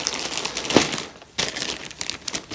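A plastic bag crinkles as it is fitted around a Rega turntable platter, with a sharp rustle near the start and a louder burst of crumpling later, close up and with no talk.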